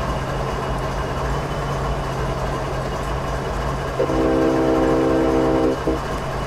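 A train idling in Train Simulator 2015, a steady low engine drone with a constant hum throughout, joined near the end by a brief sustained whistle or horn tone lasting a couple of seconds.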